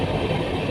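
A passing train rumbles steadily up close, a brief continuous stretch of rail noise with no voices.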